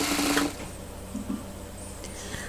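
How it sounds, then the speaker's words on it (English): A sewing machine runs a straight stitch through fabric from a thrift-store jacket being made into a hat. A close, fast mechanical whir plays at first, then slows to quieter clicks and handling sounds. "this is just a straight stitch all the way around till you get to the end"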